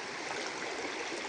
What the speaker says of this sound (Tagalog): Mabilis yung agos.